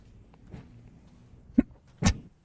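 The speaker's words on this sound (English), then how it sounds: "You can hear the sound of the footsteps." Footsteps in Bruno Simon's browser game world, a few sparse, soft thuds spaced irregularly, the last two louder and closer, over a quiet background with no talk.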